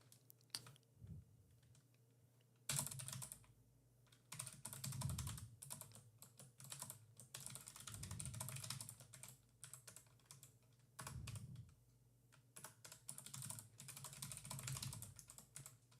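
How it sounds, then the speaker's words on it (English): Someone types on a computer keyboard in steady bursts of clicking keys, close but quiet, over about sixteen seconds with short pauses between runs and no speech. "Sorry, just typing."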